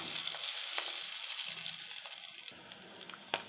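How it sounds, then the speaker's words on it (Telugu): Eggs fry in hot oil in a pan, making a bright crackling sizzle that is loudest at first and then eases into a softer hiss, with a sharp tap near the end. "దాన్ని ఆయిల్లో వేసేసుకుంటున్నాను ఎగ్స్ని"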